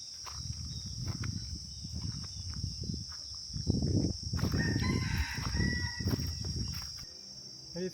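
A rooster crowing near a remote temple in Khao Lak, Thailand, its call rising loud and close midway, with clucking and a constant high insect drone behind it.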